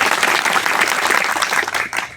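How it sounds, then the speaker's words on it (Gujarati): A crowd at a Koli community justice meeting bursts into loud, dense applause, sustained rapid clapping close by throughout. "એના માટે આપણે જોરદાર તાળીઓ તેમને વધાવી દઈએ."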